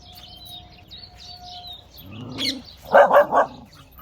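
Dogs in the Madhuvan forest quarrel with a few harsh, loud barks and growls near the end, after birds chirp and tweet softly in the background.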